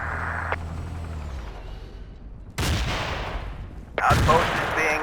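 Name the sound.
artillery fire in video game Battlefield 2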